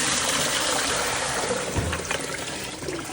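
Water poured out of a container after fabric soaking overnight for mordanting, a steady trickling splash running continuously at close range with no talking.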